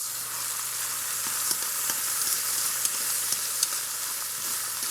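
Onions frying in a pan while preparing pork sirloin, a steady close sizzle with scattered light scrapes and taps of stirring throughout.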